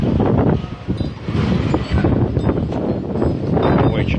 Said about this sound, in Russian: Ой, что-то ветер какой-то сильный.